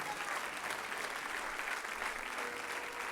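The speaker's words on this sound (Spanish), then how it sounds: "Alguien va a aplaudir y va a decir, eso es verdad" An audience applauding in a church during an evangelical sermon, a steady dense wash of clapping hands at moderate distance, fairly soft and unbroken.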